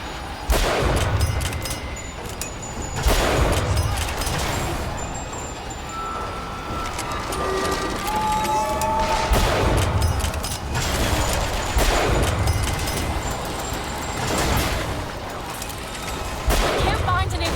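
Rocket fire and explosions boom repeatedly in a video game, with heavy blasts landing every couple of seconds over a constant rumbling battle din while people talk throughout.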